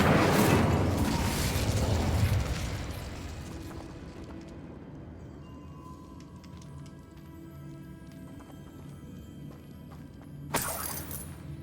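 Incendio fire spell cast in the video game Hogwarts Legacy: a loud roaring fiery burst that fades over a few seconds into a quiet ambient bed, then a short sharp crackle near the end.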